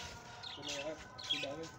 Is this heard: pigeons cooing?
yes